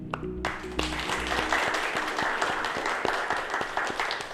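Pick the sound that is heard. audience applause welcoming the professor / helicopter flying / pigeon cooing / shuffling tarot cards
audience applause welcoming the professor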